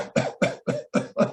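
A doctor imitates a child's paroxysmal whooping cough with his own voice: six harsh, evenly spaced coughs in quick succession, close and fairly loud, with no talk over them.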